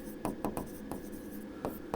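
A marker or chalk scratches across a lecture board in short strokes, several brief scrapes spaced unevenly over a quiet room.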